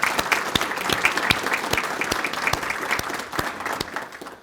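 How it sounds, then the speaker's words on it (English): A luncheon audience at a Centennial Awards event gives a round of applause, with some individual claps standing out sharply from the crowd before the clapping thins and fades at the end. "if we could give them a round of applause"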